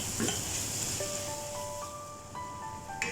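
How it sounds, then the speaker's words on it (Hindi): Milk powder being stirred into lauki (bottle gourd) halwa in a pan over a low flame, a steady close hiss and scraping with faint tonal beeps partway through. "मिक्स कर लेंगे अच्छे से।"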